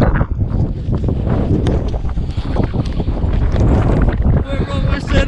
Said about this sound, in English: Oh, get some wind.